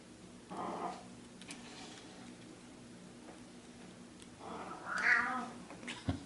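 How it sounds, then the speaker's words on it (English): An indoor cat that wants to be let outside gives two insistent meows, one short and one longer and more strained. A soft tick sounds faintly in the background. "my cat's going a little crazy right now. He wants out"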